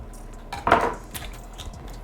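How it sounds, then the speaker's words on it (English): A knife slicing through grilled chicken on a board, a brief scraping cut with a few light clatters of metal against the surface, fairly faint and alone. "Take a knife"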